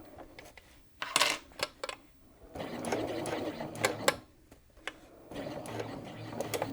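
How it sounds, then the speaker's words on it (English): A sewing machine bastes a concave curved zipper and backstitches at the end, giving short, close bursts of rapid stitching chatter mixed with sharp clicks and pauses as the fabric is guided around the curve. "We're basting, but I'm going to backstitch at the very end just to hold that in position."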